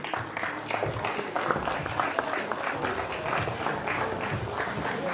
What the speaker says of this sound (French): Je voudrais qu'on les applaudisse, s'il vous plaît.